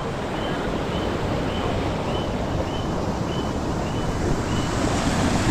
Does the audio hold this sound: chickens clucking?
no